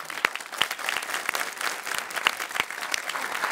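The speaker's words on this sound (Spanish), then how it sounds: "esta señora Karen hay que darle un aplauso." A television studio audience applauds steadily and fairly loudly throughout, with a few sharper individual claps standing out from the dense clapping.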